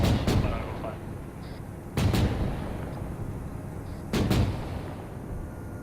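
Javelin missile launches and explosions in the military shooter game RU:Havoc, three heavy booming blasts about two seconds apart over a constant rumbling battlefield din.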